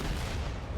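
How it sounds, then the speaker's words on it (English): Artillery strike in Fortnite, a dense rumbling barrage of booms and blasts filling the whole moment, loud and without talk. "They've launched an artillery strike at me."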